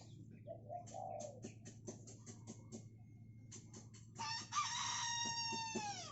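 A pet rooster crows once near the end, a loud, drawn-out cock-a-doodle-doo that follows a run of short clucks and clicky bird sounds over a steady low hum.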